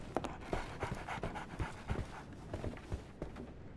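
A dog in the Sherlock Holmes The Awakened game pants in quick, rhythmic, breathy bursts, close and fairly quiet, continuing steadily across the whole clip.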